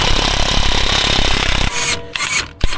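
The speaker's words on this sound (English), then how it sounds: "now I got this loose, and try to push it, the axle, with my impact gun." An impact gun hammers against the front axle of a Mercedes-Benz W212 E250 4matic during front wheel bearing replacement. A loud, dense, rattling burst runs close for about a second and a half, then cuts off, followed by quieter clanks and one sharp knock.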